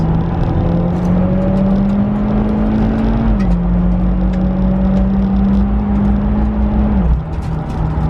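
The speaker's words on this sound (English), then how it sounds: "I'm gonna drop it down into third gear as I pull onto the highway" A Mitsubishi Evo X MR engine hums steadily at a sustained pitch while accelerating in third gear onto a highway, the tone rising gradually, dipping briefly around a shift, then holding steady again. No voices.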